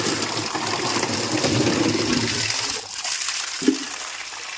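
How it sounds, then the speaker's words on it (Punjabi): Water gushes steadily into an empty cattle trough on a farm at night, a dense rushing flow that drops off abruptly partway through, leaving a quieter trickle with a single short knock. "ਗਾਵਾਂ ਦੀ ਖੇਲ ਜਮਾ ਖਾਲੀ ਹੋਈ ਪਈ ਆ ਦੇਖੋ ਪਾਣੀ ਛੱਡ ਕੇ"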